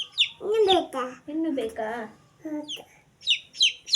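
A chick being fed at home gives short chirps and soft clucks in bursts, close and fairly clear, while a person speaks to it in between.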